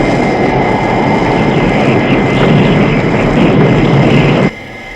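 Propeller aircraft engine drones steadily as the plane loses altitude before a crash, a loud continuous roar that cuts off abruptly near the end.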